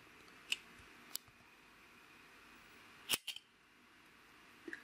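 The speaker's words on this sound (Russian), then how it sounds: "Раздается характерный щелчок." A four-colour changer KHC820-A on a knitting machine gives a few sharp, isolated clicks, each short and crisp, standing out against a faint background hiss with no talking.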